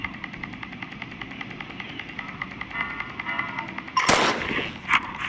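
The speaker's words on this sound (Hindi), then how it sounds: "मैं एक पे फायर करूंगा।" Gunfire in the Granny horror game, with a steady mechanical rattle and engine-like drone building and then a sharp loud burst of shots near the end, followed by one more crack.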